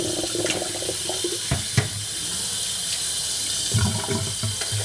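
Steady running water from a kitchen sink tap rinses a roll of 67-year-old Verichrome Pan film, a continuous even wash with a few faint knocks and splashes underneath.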